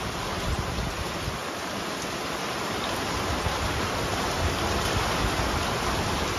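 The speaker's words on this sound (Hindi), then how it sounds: "बारिश की आवाज सुनाई दे वही अच्छा है" Heavy rain falling in a dense, steady hiss with no pauses or voices, fairly quiet overall.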